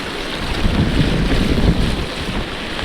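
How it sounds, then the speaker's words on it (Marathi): Loud, steady rush of fast-flowing water during a torrential rainstorm, with a constant low roar and churning texture, continuous throughout with no voices. "पाण्याला प्रेशर बघ काय आहे खतरनाक"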